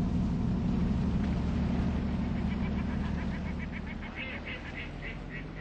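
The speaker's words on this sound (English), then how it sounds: "enough mallard, teal, and especially shell duck to put on a dramatic show when they fly up" Mixed flock of wildfowl on the lower Thames, including mallard, teal and shelduck, gives a steady wash of honking and quacking calls, with sharper repeated calls rising toward the end over continuous low background noise.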